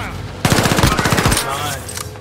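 Rapid automatic gunfire from the video game Call of Duty Warzone, a loud sustained burst of closely spaced shots followed by a fading tail of scattered game noise.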